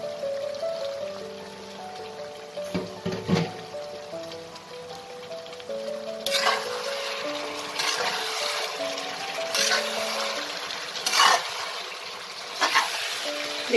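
Bengali-style bhetki fish-bone and potato curry simmers in a covered pot over a slow-to-medium gas flame. Soft, faint bubbling runs throughout, broken by scattered small pops and sputters.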